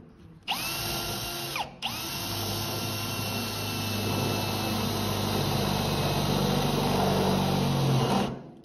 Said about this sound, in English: we're just gonna grind that to a circular finish